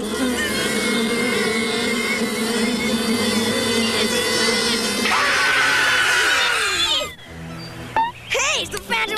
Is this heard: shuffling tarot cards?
no